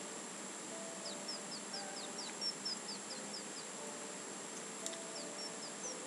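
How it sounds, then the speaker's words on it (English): Birds chirp in the game Earthbound, a faint series of quick high chirps in short runs over a steady hum of game background sound. "I'm assuming it's just the birds chirping"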